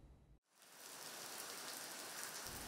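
Steady rain pours down at a rural village pagoda in early May, a dense, even hiss that starts abruptly after a brief silence and holds at a constant level.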